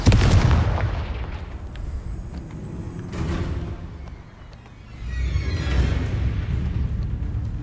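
Confringo spell blasts in a Harry Potter video game, a sharp booming explosion at the start followed by two further rumbling blasts with fiery hiss, fairly loud, no talk.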